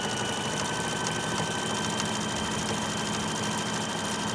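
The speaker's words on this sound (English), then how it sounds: "So I'm going to start sewing." A sewing machine running steadily while stitching fabric binding through a binding foot, a continuous close mechanical whir with a faint motor hum and no talking.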